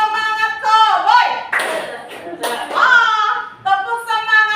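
A group doing the rhythmic 'tepuk semangat cowboy' clap chant, with voices chanting loudly alongside short bursts of clapping.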